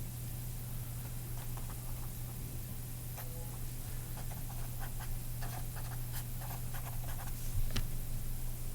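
Marker strokes on a classroom board while a diagram is drawn, a scattered run of soft scratchy squeaks and taps over steady low hum, fairly faint and with no talking.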